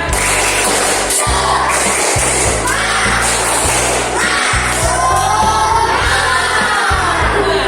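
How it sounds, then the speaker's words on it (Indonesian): A school class performs the tepuk semangat clapping chant led by a male teacher, loud rhythmic group claps in bursts with children shouting and chanting along, ending with whoops. "Siap, tepuk semangat"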